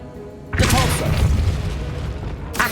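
A magic spell effect fires in a Harry Potter video game: a sudden loud whooshing boom with a rumbling tail, followed by a second burst at the end.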